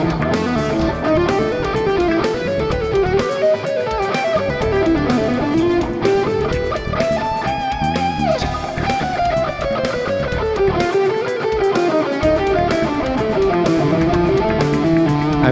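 Distorted electric guitar runs fast, continuous whole-tone scale patterns starting from the fifth, zigzagging up and down in a loud, steady fusion shred line with no talking.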